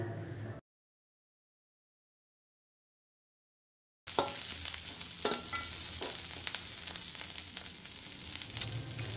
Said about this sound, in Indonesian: bumbu yang udah halus ini akan langsung saya tumis dalam minyak yang udah dipanaskan sebelumnya